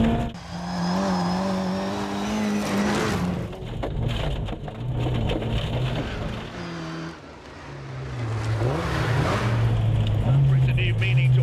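A 1960s Morris Mini-Minor driving along a rocky gravel road, its small engine droning steadily throughout with tire crunch and rattling, while someone talks over it the whole time.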